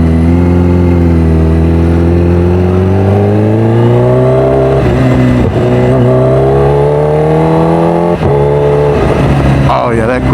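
A Kawasaki Ninja H2R supercharged motorcycle revs loudly and close during a ride, its engine pitch climbing steadily through the gears with brief dips at each quick-shifted gear change.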